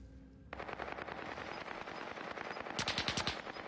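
Sniper fire in a multiplayer shooter video game: steady, dense, distant-sounding gunfire that swells into a cluster of sharp, rapid shots near the end, with no talking.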